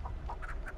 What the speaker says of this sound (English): Oh, this stupid chicken.